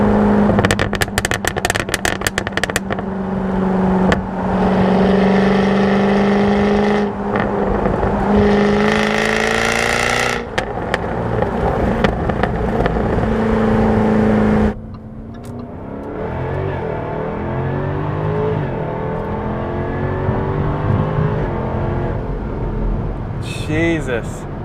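A Jaguar F-Type accelerates hard past about 3,500 RPM, its exhaust crackling and popping over a loud, rising engine note, then easing to a lower drone. A voice talks over part of it.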